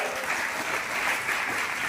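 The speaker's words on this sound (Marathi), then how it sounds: "यांच्यासाठी तुम्ही परत एकदा जोरदार टाळ्या वाजवा" Students at a high school assembly clap loudly in a steady, dense burst of applause that fills the room throughout, with no voices standing out.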